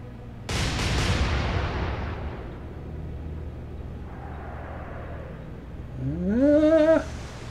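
A loud naval gun blast from a warship in the game Atlantic Fleet booms out and rumbles away. Later a fainter shell impact lands, then a rising whistle-like tone swells and cuts off. No one speaks.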